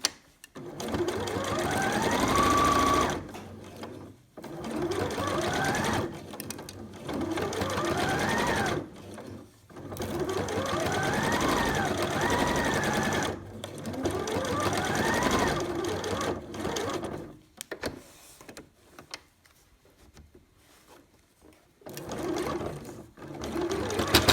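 A sewing machine with a blunt needle stitches thick fabric for a face mask, running in several loud, close bursts of rapid rhythmic clatter separated by short pauses as the work is turned.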